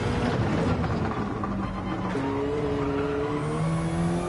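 Gran Turismo Gr3 race car lapping Road Atlanta: a close, loud engine note rises and falls through gear changes and throttle, with tire squeal during cornering, steady and without talking.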